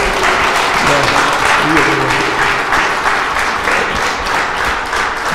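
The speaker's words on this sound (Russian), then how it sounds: "Я думаю, еще раз аплодисменты," Steady, loud applause from a crowd gathered at a club CrossFit training session, filling the whole stretch with dense clapping while voices murmur faintly underneath.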